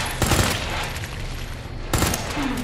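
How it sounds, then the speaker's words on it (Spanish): Machine gun fire in Resident Evil 2 Remake, a video game: two dense bursts of rapid automatic shots, near and loud, separated by a short lull. "Son bichos muy duros con la ametralladora"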